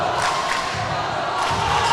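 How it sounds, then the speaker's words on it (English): A home crowd at a boys' high school basketball game between Florence and Coolidge cheers and roars at a tied score, a dense, steady wall of voices filling the gym for the full two seconds. "the Florence crowd is hyping it up"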